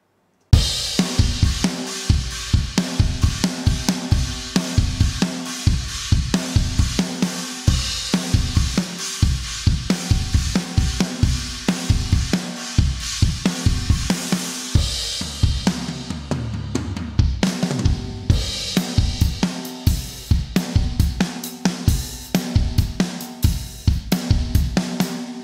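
A drum groove of punchy kick and snare hits repeats steadily through a Heritage Audio Successor bus compressor with its filter off, loud and tightly compressed, with cymbals washing above and no voices.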